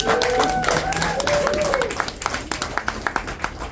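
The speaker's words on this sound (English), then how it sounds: "Clap if you're having a good time" An audience at a stand-up comedy show claps; a voice and crowd murmur open, then a steady run of distinct, rhythmic handclaps fills the final couple of seconds.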